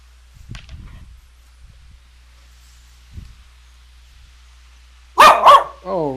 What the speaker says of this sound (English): you're gonna bark right into the mic like that